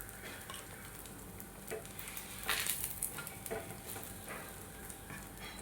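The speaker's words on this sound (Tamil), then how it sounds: "நெய்யில் வந்து முதல்ல ப்ரெட்டை வந்து ரோஸ்ட் பண்ணி எடுத்துக்கிறேன்" Bread roasts in ghee in a pan, a soft continuous sizzle with occasional scraping stirs and light utensil clicks, quiet and close with no talking.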